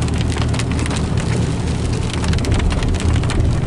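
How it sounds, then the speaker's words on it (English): Steady, heavy rain pours down in California, pattering densely on surfaces with a constant hiss and low rumble throughout. "It's raining."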